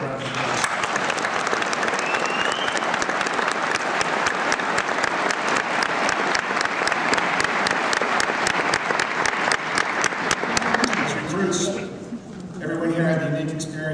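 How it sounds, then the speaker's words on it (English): Audience applause at an NYPD police academy graduation ceremony, a long, dense, sustained round of clapping from a large crowd that tapers off near the end as a voice starts up. "Let's please give him a round of applause."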